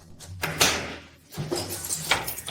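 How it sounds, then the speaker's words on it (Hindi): A door being opened in an indoor domestic setting, with a short rattling thud followed by a second knock-like impact, fairly close and moderately loud, with no voices over it. "दरवाजा खोलो"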